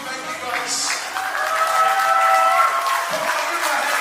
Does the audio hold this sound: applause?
yes